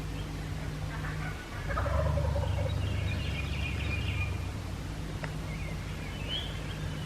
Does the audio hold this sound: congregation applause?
no